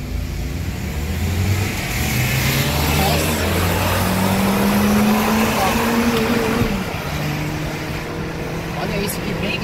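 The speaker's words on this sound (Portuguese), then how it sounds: "na hora que abre o turbo, velho, você vê a frente levantar do seu carro" A turbocharged VW Polo accelerates hard, its engine note climbing through gears with a loud, close roar, and people talk over it.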